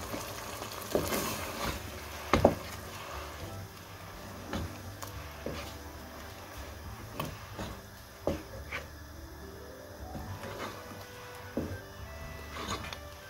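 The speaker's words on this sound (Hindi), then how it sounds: "ये चिकन की बुनाई अच्छे से हो रही है" Chicken being stir-fried (bhuna) over a high flame in a karahi for Lahori chicken karahi with cumin, salt and turmeric, giving a steady close sizzle broken by sharp scraping and stirring knocks.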